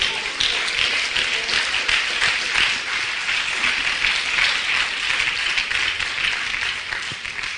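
A church congregation at an IPDA service in Venezuela breaks into loud, continuous applause for the Lord, a thick steady wash of clapping lasting the whole stretch.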